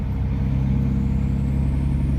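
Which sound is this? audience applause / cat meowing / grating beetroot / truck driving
truck driving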